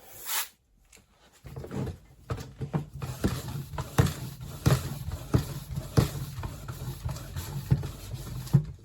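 A CLOLOP bike floor pump with a gauge is worked by hand to inflate a bicycle tire. It gives a regular series of close, thumping strokes with hissing air, continuing steadily after a short pause and with no talk.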